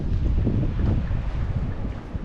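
Strong wind gusts roar across the microphone on the waterfront at Bar Harbor, Maine, near the harbor and town dock at high tide, a loud, buffeting rumble with no voices.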